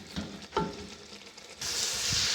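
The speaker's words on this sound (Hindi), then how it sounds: "ये हमने ऐड कर दिए और इसको अब हम अच्छी तरह भून लेंगे" Chicken pulao with lemon juice frying in a pot, with a faint sizzle, a couple of soft stirring scrapes, then a steady louder hiss of frying near the end.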